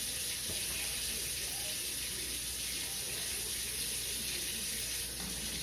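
Water running from a kitchen tap while dinner is being cooked, a continuous bright rushing hiss at constant loudness from start to finish.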